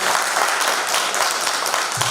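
A seminar audience at an annual symposium and youth award event in 2020 breaks into loud, dense applause for a guest doctor, a short, full burst of clapping close at hand.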